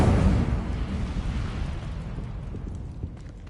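An Incendio fire spell cast in Hogwarts Legacy, a deep whooshing burst of flame that starts loud and slowly fades out over a few seconds, with no talk.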